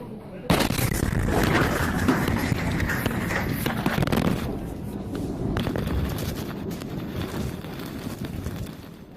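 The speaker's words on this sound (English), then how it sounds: "That was actual footage of a bomb explosion in the heart of Sana'a" A bomb blast in the heart of Sana'a, Yemen, booms out with a sharp onset near the start, then continues as a heavy, sustained rumble with crackling debris, fading somewhat midway, while voices shout faintly underneath.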